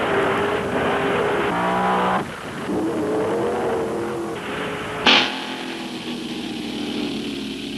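Top fuel dragsters and wheel-standing fuelers race down the quarter mile at Great Lakes Dragaway in 1971: loud roaring engines rise and fall in pitch as cars pass, with a sharp burst partway through, all heard from a distance through crowd ambience.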